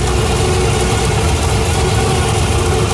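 A cammed Chevy 350 V8 with timing gears runs steadily in a 1987 Firebird, a constant loud drone carrying a faint high gear whine over the engine's lumpy idle, with no voices.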